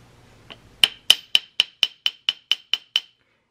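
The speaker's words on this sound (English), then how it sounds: "So when I start hammering on this hook, I'm going to cant the hammer." A hammer, held canted, strikes a metal hook about eleven times in a steady, even rhythm, each blow a sharp, bright ringing clang that decays quickly.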